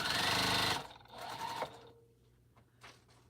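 A sewing machine stitching a quilt seam runs in a fast loud burst of close mechanical stitching for under a second, then slows and winds down into quiet handling sounds.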